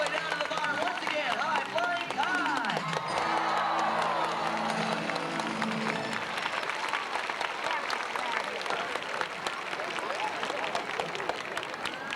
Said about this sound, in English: let's put our hands together and help cheer him on